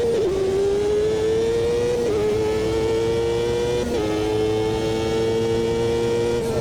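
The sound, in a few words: race car engine revving in Automobilista 2 video game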